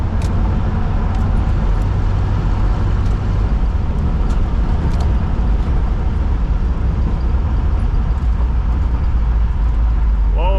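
A 1970 Pontiac Grand Prix with a 455 V8 runs at low revs, a loud, steady, close engine drone and road rumble that continues without a break.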